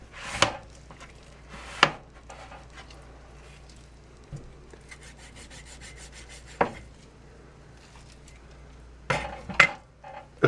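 A knife working through raw chicken on a cutting board, with quiet scraping and slicing broken by several sharp knocks of the blade against the board, spaced irregularly, close and alone without talk.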